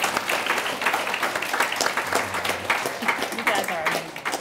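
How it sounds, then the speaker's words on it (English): Applause from an audience for the panelists of a discussion event, dense steady clapping that carries through the whole stretch at an even, full level with no talk over it. "if we can give them a round of applause"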